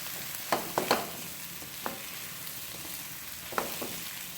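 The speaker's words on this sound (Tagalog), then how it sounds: "Brown na ang garlic natin at ang onion. Sunod natin ang chorizo." Garlic, onion and chorizo sizzle quietly in a pan, a soft steady frying hiss broken by a few brief scrapes and clinks of stirring, with no voices.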